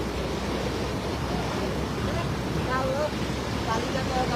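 The Balason river rushing in flood after a day of heavy rain, a loud, constant broadband roar of water with a brief faint whistle-like tone partway through.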